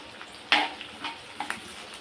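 Chopped onions, two small ones, frying in a pan for an egg masala curry, with faint sizzling broken by a few brief scraping stirs near the middle and end, quiet overall with no talking.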